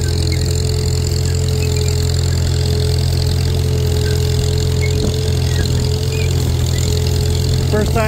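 An M tractor towing a disc in a field runs steadily throughout, a loud, constant low engine drone with a rhythmic hum that holds close and unbroken, with no talk over it.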